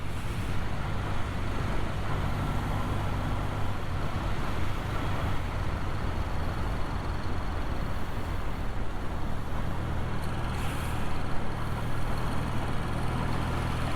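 A BMW R60/6 motorcycle is ridden along a road, its engine and road noise a steady, continuous drone for the whole stretch, with wind rushing and no talking.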